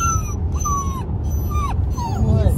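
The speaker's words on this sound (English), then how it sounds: "So the type of dog we got was a European Doberman." A European Doberman puppy whimpers in thin, rising and falling whines, several short cries in quick succession, close and fairly loud over a low background rumble.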